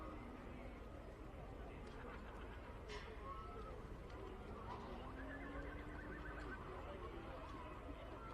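A horse whinnies amid the steady hubbub of a campdraft event, with hoof clip-clop and crowd chatter filling the background; the neighing rises out of continuous outdoor noise at moderate distance.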